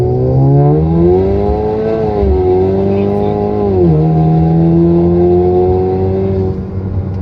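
A tuned 2017 Camaro with a turbo four-cylinder pulls hard on a street, its engine note climbing, dipping at a shift, then rising again in a loud, close, sustained run.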